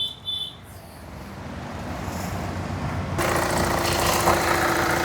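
A 2012 Hyundai i20 diesel engine idles with a low, continuous rumble and vibration, growing slightly louder and rougher partway through; no speech.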